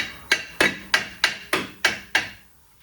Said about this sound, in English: outwards hammer on it so we can get into this groove and try to pry it off